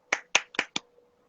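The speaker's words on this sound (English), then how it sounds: "3 claps, baby." Four sharp, snappy hand claps land close together in quick succession, crisp and isolated against silence.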